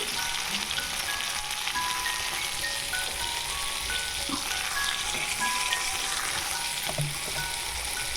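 Discarded cabbage leaves and flat beans fry in a pan, making a dense, even crackling sizzle that holds at a steady loudness throughout, with no voices.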